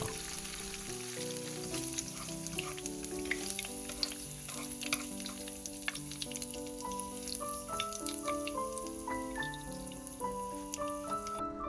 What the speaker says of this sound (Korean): 튀겨주시다 보면 깻잎이 이렇게 단단해지는데요